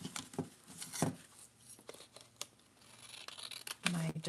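Scissors snipping around paper at close range, a few short crisp cuts and rustles spread over a few seconds, fairly soft.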